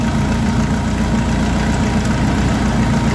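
Steady idle of a Suzuki Carry 1.0 fuel-injected engine after ignition timing adjustment, a continuous low mechanical rumble with an even, smooth hum throughout, close and loud with no talking.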